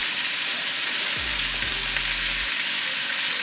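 Onion and peppers sizzle steadily in a hot pan with a constant bright crackle, and a brief low scrape of stirring passes through the middle.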